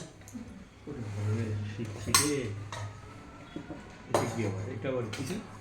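A ladle and spatula clatter against metal pots in a home kitchen, several sharp clanks and rattling bursts spaced a second or two apart, close and fairly loud, with a voice talking in between.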